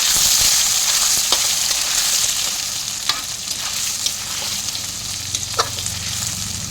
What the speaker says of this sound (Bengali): এবার ভোগ চালটার সাথে আলুটা আবারও একটু ভাজা ভাজা করে নেব